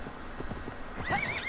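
A horse gallops in the video game Assassin's Creed Valhalla, with quick clip-clop hoofbeats followed by a short, faint whinny near the end.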